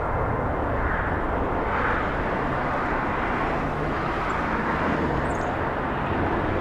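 A Delta jet on a repositioning flight climbing steeply out of LAX, heard as a loud, steady, broadband engine roar that fills the whole stretch without letting up, with no voices.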